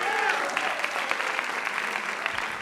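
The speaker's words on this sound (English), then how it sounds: "Why don't you stand and receive the applause of everyone here?" Warm, sustained applause from the audience at an awards night ceremony, many hands clapping evenly at moderate distance, with faint voices mixed in near the start.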